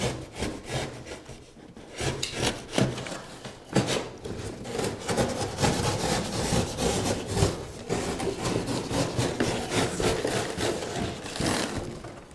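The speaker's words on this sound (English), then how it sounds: "now we'll cut this box" A cardboard box being cut open, with continuous rough rasping and scraping strokes in an irregular rhythm, close and moderately loud, running throughout without speech.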